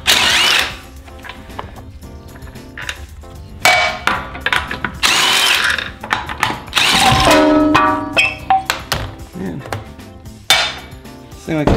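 A power tool breaks loose the brake bolts on a 2017 Mini John Cooper Works, firing in several loud, close bursts with metallic clanks and rattles in between.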